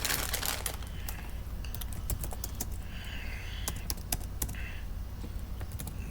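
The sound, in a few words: typing on a keyboard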